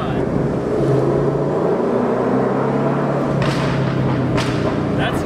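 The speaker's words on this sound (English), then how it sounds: "That's just resonator delete in the Corsa Extreme." A Ford Mustang fitted with a Corsa Extreme exhaust and resonator delete rumbles nearby with a deep, steady, droning idle, while people talk and exclaim over it.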